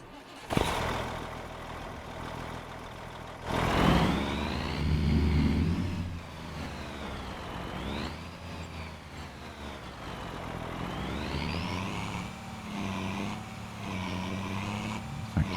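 A deep truck engine in Farming Simulator 25, hauling a trailer, rumbles and revs steadily throughout, rising and falling in pitch as it accelerates, loud and close with no talking.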